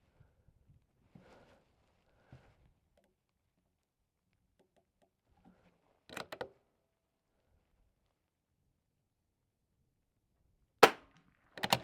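.22 rimfire rifles fire on an NRL22 precision course of fire. Two short, sharp cracks stand out against near silence, with faint small knocks and handling sounds in between.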